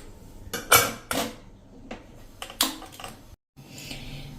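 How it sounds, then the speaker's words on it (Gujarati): A pressure cooker lid is set on and locked, giving a few sharp metallic clanks and scrapes close by, spaced irregularly with brief quiet gaps between them. "હવે કુકરનું ઢાંકણ બંધ કરી"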